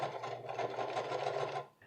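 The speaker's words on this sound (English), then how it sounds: "Of course, stitch it all the way around in both directions." A sewing machine runs a steady stitching burst along a pants waistband seam, a quiet, even, rapid mechanical whir lasting under two seconds before stopping.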